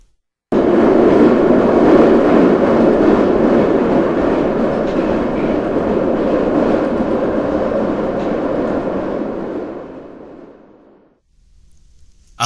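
Steady loud rumble of a subway train carrying a passenger home, a continuous broad roar of wheels and rail noise that holds for about ten seconds before fading toward quiet.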